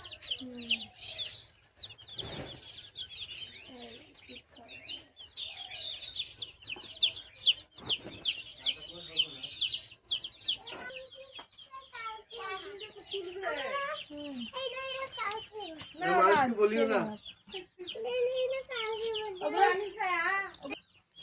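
Chicks and ducklings cluck and peep as they come in to feed, busy high calls running through the whole stretch over a farmyard, with people talking nearby.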